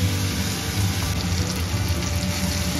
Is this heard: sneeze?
no